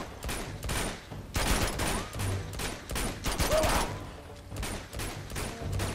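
Bursts of pistol gunfire from the video game Uncharted 2 crackle in rapid, repeated volleys during a jungle firefight in Borneo, close and fairly loud, with a few short gaps between clusters of shots.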